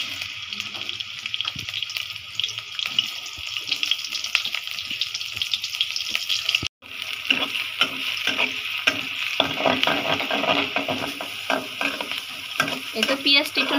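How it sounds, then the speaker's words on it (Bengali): Sliced onion fries in hot oil in a wok with a loud, continuous sizzle and rushing hiss, stirred now and then. The sound cuts out for an instant midway, then resumes just as strong. "একটা পেঁয়াজ দিয়ে দিই।"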